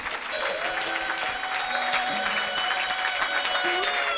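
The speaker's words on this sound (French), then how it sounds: "Acclame Jésus de Nazareth" Congregation at a French-language church service clapping and cheering in praise of Jesus, a steady dense wash of applause with voices mixed in, loud and continuous throughout.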